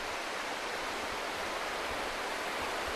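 The Pas river in Vega de Pas flows with a steady, full broadband rush of water, loud and close, unbroken for the whole stretch with no voices.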